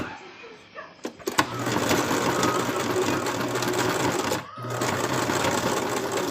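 A sewing machine stitches up into the corner of a plush toy, its rapid, close mechanical whir starting after a few taps and running steadily with one brief pause before resuming.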